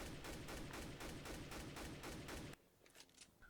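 An M4A4 rifle fires in CS:GO in a rapid, even series of about ten loud shots spaced roughly a quarter second apart, then stops abruptly, leaving faint tail echoes.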